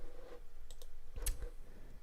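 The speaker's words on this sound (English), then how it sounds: "you can really hear when I'm clicking with the mouse" A computer mouse clicked during a music livestream gives a few quiet, sharp clicks scattered over a couple of seconds. They are close but faint, with no talk.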